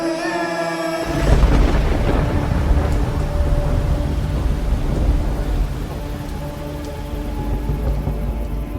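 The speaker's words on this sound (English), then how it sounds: "A crazy typhoon was passing through the country, and the winds and rain menaced and tested the windows of my home." A typhoon roars outside a home: heavy rain and gusting wind batter the windows, and a loud thunder crash breaks in after a short quiet moment, then a sustained loud downpour.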